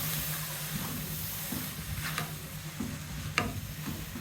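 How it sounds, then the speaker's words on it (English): Spring roll filling with carrots being stirred in a hot pan: a soft, steady sizzle with occasional scraping clicks from the utensil, close by, with no talking. "at this point all I'll just do is to mix"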